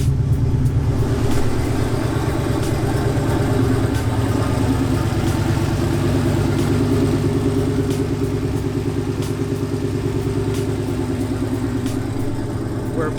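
A Datsun 240Z, just restarted after its engine bay caught fire, runs at a steady rough idle, close and loud, its low throbbing rumble holding unbroken with no voices.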